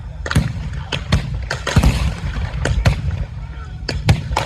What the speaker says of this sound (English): the rather large amount of gunfire we've got going on here